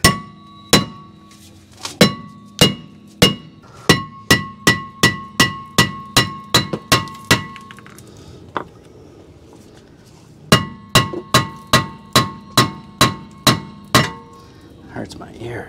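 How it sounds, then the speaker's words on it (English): A hammer whacks the rear brake rotor of a Toyota RAV4 to free it, loud sharp metallic clangs in quick rapid series, pausing briefly midway before another burst of hits. "let's just give it a whack on either side here."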